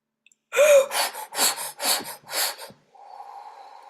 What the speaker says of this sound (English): When you hear me making those out breaths, it's actually Shakti breathing